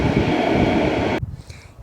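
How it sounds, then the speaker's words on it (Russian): A metro train pulls away from a subway platform with a loud, full rumble that stops abruptly, leaving a quiet, hollow station ambience. "Это поезд метро. Он уходит."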